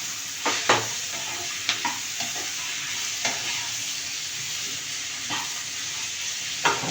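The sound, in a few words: stirring pickle with asafoetida in a pan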